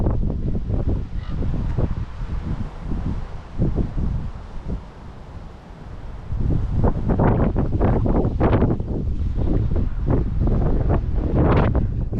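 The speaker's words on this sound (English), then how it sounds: "Very windy today, guys, so I do apologize." Strong wind buffets the microphone in a cemetery in Colma, California, producing loud rumbling gusts that ease briefly mid-way and then return harder and steadier.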